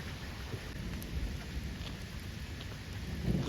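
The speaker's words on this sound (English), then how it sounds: "still hear a lot of thunder in the area" Thunder rumbles on and off over steady rain just after a severe storm passes through Indiana farmland. Deep low rolls of moderate loudness sit under a continuous hiss of rainfall, with no voices.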